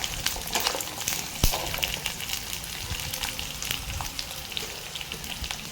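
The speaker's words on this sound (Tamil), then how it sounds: "பூண்டு கொஞ்சம் பொன்னிறமாக வறுபட்டதும்" Garlic frying until golden in a pan, a continuous crackling sizzle with small pops and a sharp knock near the start, heard close and alone.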